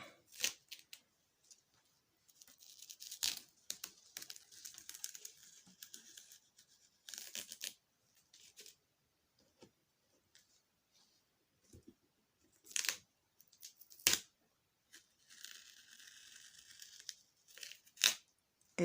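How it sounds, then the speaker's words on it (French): White paper masking tape being peeled off the edges of a pastel drawing, a series of short ripping and crackling strips with brief pauses between pulls, close and fairly quiet. "j'enlève mon cadre ici en scotch blanc"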